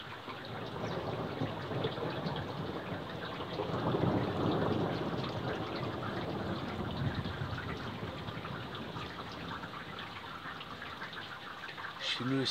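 Steady rain during a moderate thunderstorm in Montceau-les-Mines, with a long low rumble of thunder swelling in the middle and a faint voice near the end.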